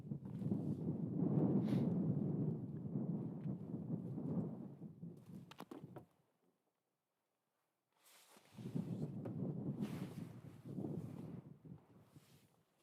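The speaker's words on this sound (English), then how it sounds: "It's really windy." Strong wind in Utsjoki, Lapland, roaring and buffeting the microphone in heavy gusts, dropping briefly to near silence before surging back.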